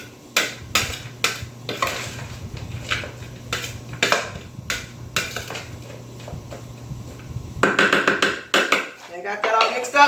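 Spoon clattering and scraping against a bowl while a green bean casserole mixture with fried onions is stirred, close by in a kitchen, with irregular taps and a soft hum underneath.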